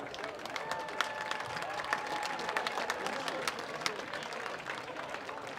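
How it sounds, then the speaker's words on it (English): A high school football crowd applauds the players and coaches as they run through a tunnel before a game. The clapping is steady and moderately loud, mixed with some crowd noise, scattered cheers and faint voices. "let's give players and coaches a big round of applause"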